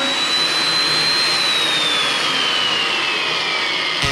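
A 1950s Sunbeam electric lawn mower motor runs steadily with a high whine that slowly falls in pitch, a continuous close mechanical hum with no talking.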